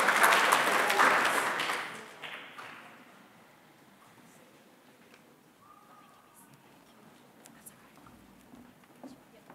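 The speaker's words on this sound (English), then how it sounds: "Round of applause to all of Year 11 award winners." Audience applause at a high school presentation day for Year 11 award winners, a loud burst of clapping for about two seconds that quickly dies away, leaving a quiet room with faint scattered sounds.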